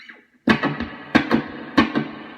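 Clean electric guitar played through a Gibson GA19RVT Falcon tube amp with spring reverb: three bright strummed chords, each ringing with a wet, splashy reverb tail, alone and up close.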